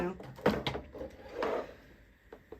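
A small sticker drawer in a journaling and planner setup slides open and shut, giving a few soft wooden bumps and scrapes while a person talks nearby.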